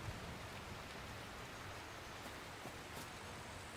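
Rain in a video game falls as a steady, faint, even hiss throughout, without voices or other distinct events.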